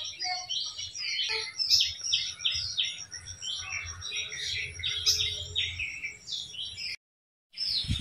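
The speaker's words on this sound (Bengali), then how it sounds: "আশপাশে পাখির ডাকটি কত" Birds chirp and tweet busily outdoors in a village, a dense chorus of quick calls, with a brief silent gap near the end.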